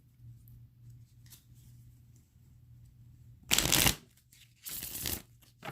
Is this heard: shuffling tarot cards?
yes